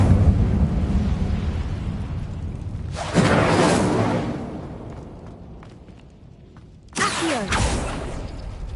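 The Incendio fire spell from Hogwarts Legacy erupts with a rushing, roaring whoosh over a constant low rumble. A second loud burst of flame follows a few seconds later.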